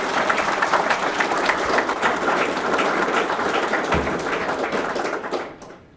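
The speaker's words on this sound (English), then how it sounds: "So another round of applause for these guys." Applause from an audience at an employment pathway celebration, a steady wash of many hands clapping for several seconds before fading out at the end.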